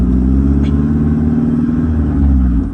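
A Jeep Wrangler on huge tires accelerating with the throttle floored, a loud, close, continuous engine roar with deep rumble holding steady throughout.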